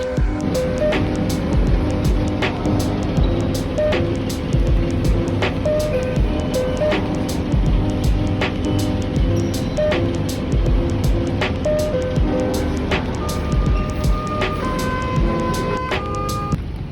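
Steady rumbling rail noise inside a moving Singapore MRT metro car, with rattles and clicks over a continuous low drone and no talking.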